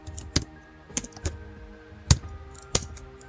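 Separate crisp key presses on a computer keyboard during Java coding for an Android app, about five sharp taps spaced irregularly over a few seconds, close and clear against a quiet background.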